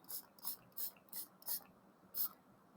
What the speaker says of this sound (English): with a spray bottle, I'm going to spray the whole surface